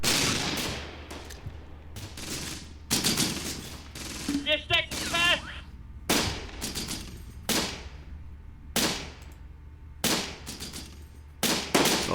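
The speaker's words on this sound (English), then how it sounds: "Oh, he's definitely opened fire." Gunfire in a Close Combat multiplayer firefight: repeated loud bursts of rifle and machine-gun fire at irregular intervals, some rapid rattling volleys, separated by short quieter gaps.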